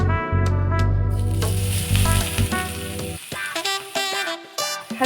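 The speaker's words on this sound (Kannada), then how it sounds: "ತುಪ್ಪ ಹಾಕ್ಕೊಂಡು ಕ್ಯಾರೆಟ್ನ ನಾನು ಇವಾಗ ಸ್ವಲ್ಪ ಬಿಸಿ ಆದ ತಕ್ಷಣ ಚೆನ್ನಾಗಿ ಇದನ್ನು ಉರಿತೀನಿ" Grated carrot frying in ghee in a pan gives a continuous close sizzle, with stirring noises and tonal background music playing over it.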